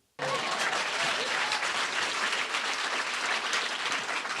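After a brief silence, applause from a lecture audience at a Red Bull Music Academy talk in New York bursts in and carries on as a steady, even roar of many hands.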